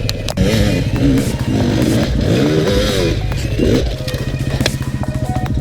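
Enduro motorcycles grind up rock slabs on forest singletrack, engines revving and stuttering under careful clutch control, loud and near, with tyres scraping and clattering over the stone.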